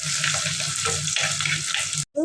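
Fenugreek, garlic, green chillies and ginger for a belt fish curry sizzle loudly in a hot pan while being stirred, a steady close frying hiss with scraping, cutting out briefly before the sizzle returns.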